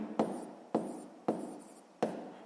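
Handwriting on paper during a sixth-grade maths exercise: four quick pen strokes at even intervals, each a sharp scratch that fades, close and fairly quiet, with no voice.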